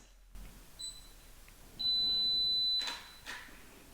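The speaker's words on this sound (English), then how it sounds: "we have to be a bit more patient here based on the 10-second self timer" A Fuji GFX 100S camera with a GF 80mm f/1.7 lens counts down its 10-second self-timer with a couple of short high beeps, then a sustained one-second tone and soft clicks, in a quiet room.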